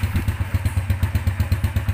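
A motorcycle engine runs steadily close by, a rapid even thumping pulse of low firing beats with light mechanical clatter, no voices.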